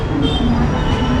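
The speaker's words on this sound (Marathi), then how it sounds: "स्लो ट्रेन आहे हा. स्लो ट्रेन आहे." Slow local trains at Badlapur station make a loud, close, continuous rumble that fills the brief moment.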